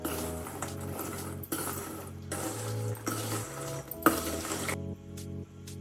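A spoon stirs sugar syrup through fried maida gavvalu in a metal pan, with repeated scraping and clinking strokes, close and fairly quiet, and a sticky sizzle underneath.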